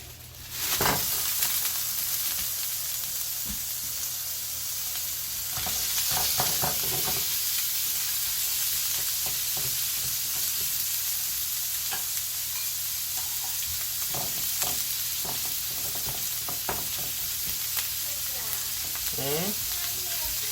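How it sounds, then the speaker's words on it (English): Beef sautéing in hot oil over high heat in a wok, a steady loud sizzle and hiss running throughout with occasional scraping stirs and light knocks of a utensil. "Next, you want to saute the beef. So again, high heat. Add oil."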